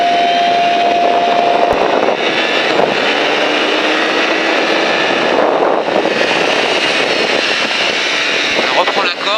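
A motorcycle on the Alès race track re-accelerates out of a corner, its engine a loud, continuous, close roar whose pitch climbs and holds steady.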